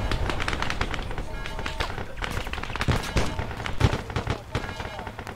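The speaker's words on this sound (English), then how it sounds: "I think we might be getting shot at." Scattered gunshots crack and thump at irregular intervals in a video game, some close and sharp, others softer, mixed with ongoing in-game noise.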